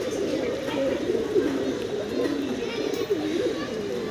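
Pigeons coo close by in soft, repeated rolling calls, with voices faintly present in the background.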